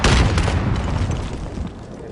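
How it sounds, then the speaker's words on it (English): A frag grenade explosion in a video game, one loud, close, rumbling blast that fills the whole short clip and slowly fades. "Throwing frag."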